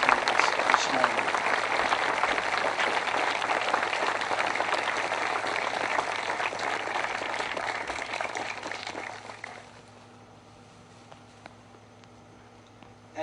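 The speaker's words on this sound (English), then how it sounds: "please join me with a round of applause for all of those in the aviation, pilots, and flight attendants this morning" A large crowd at a 9/11 anniversary memorial ceremony in Shanksville applauds in a long, dense, steady wash of clapping that fades out after about ten seconds, leaving quiet outdoor ambience.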